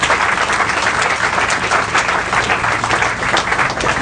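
Church congregation applauding for the Lord during a Lingala and French worship service, a dense, steady wash of many hands clapping at close range that holds loud and even throughout, with no voices rising above it.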